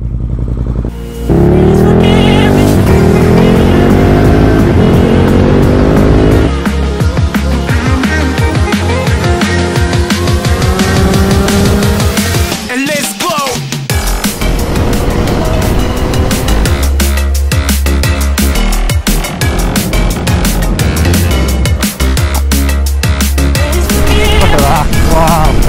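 A Thruxton RS motorcycle on its first ride out, heading along the road toward the seaside: a loud, close engine drone that rises and falls as it revs through the gears, steady throughout with wind noise.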